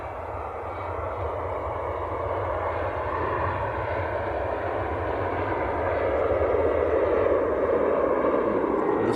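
Finnair airliner bound for Helsinki at Manchester Airport, a steady broad jet roar that holds throughout and swells slightly toward the end, with no voices.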